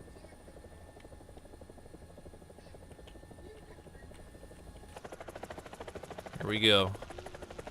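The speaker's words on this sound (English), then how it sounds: "AH-64 Apache. And it has air-to-ground missiles right now." An AH-64 Apache helicopter in a video game whirs with a steady, moderately quiet rotor drone that swells louder partway through, while a voice speaks briefly over it.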